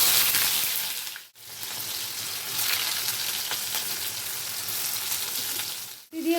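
Chopped onions sizzle in a hot wok with a steady, dense hiss that drops out briefly twice, close and alone with no talking.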